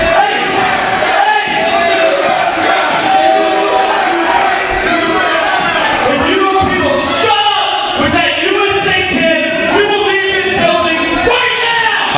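A capacity wrestling crowd fills the arena with loud chanting and cheering, pulsing in repeated waves, while commentators talk over the din.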